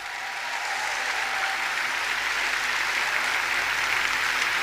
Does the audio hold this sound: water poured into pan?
no